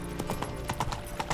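Horse hooves trotting in The Witcher 3: Wild Hunt, a steady clip-clop rhythm of several close, distinct hoofbeats at a moderate loudness.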